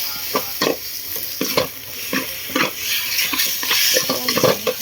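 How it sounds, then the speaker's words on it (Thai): Pork sizzles and fries in a pot on the stove while a utensil stirs it in repeated scraping strokes, close and steady with no talking. "ใส่หมูลงไปเลยย่างหมูวันได้จ้า"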